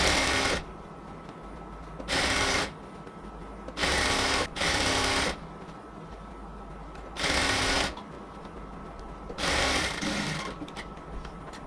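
A sewing machine stitches elastic into a salwar in six short bursts of rapid whirring, separated by quiet pauses, heard close up without talk.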